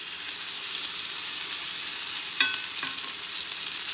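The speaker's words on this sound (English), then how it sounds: "You're going to saute these veggies, okay?" Vegetables sizzle steadily in oil in a pan on the stove, a constant frying hiss throughout, with two brief clinks of a utensil stirring near the middle.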